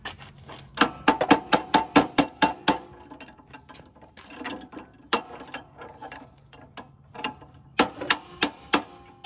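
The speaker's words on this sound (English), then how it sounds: "I think I need a hammer or something to bang these in." A hammer bangs parts into a Mighty Mac leaf blower with a 5 hp Briggs & Stratton engine, sharp metallic strikes in quick runs of close, loud blows separated by brief pauses and small clinks.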